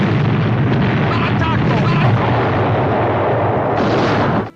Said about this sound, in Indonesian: Saat kedua kubu itu masih saling berbalas meriam